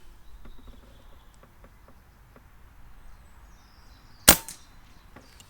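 A Kral Mortal multi-shot pre-charged pneumatic air rifle fitted with a moderator fires a single shot, one sharp, close crack about four seconds in against quiet outdoor ambience with faint insect chirps.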